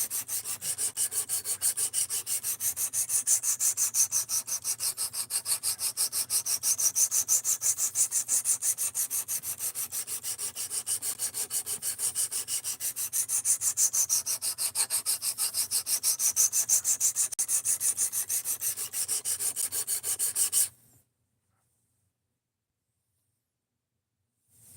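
A blade is stroked back and forth on a 1000 to 1200 grit sharpening stone, producing a continuous fast gritty rasp, close and even, that runs steadily and then stops abruptly into silence, with no speech.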